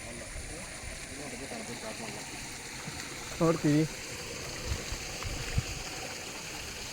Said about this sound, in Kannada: ನೀರು ಹರಿಯುವುದು ನೋಡಿ ಚಂದ ಕಾಣ್ತಾ ಉಂಟು